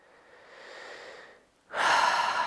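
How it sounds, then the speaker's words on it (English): Slow breathing during a foot massage exercise with a massage ball: a soft, drawn-out breath, a brief pause, then a louder, rushing breath close to the microphone. "Breathing."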